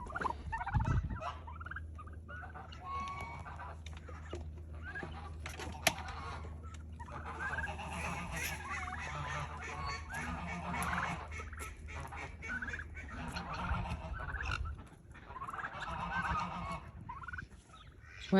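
Domestic turkeys, a food-aggressive tom among them, gobble repeatedly around feeding time, their calls steady and fairly close over a constant low hum.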